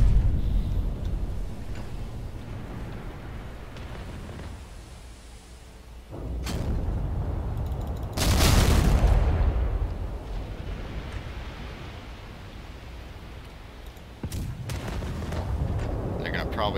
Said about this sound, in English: I've got secondary cannons. We're going to use these to try and take out these smaller ships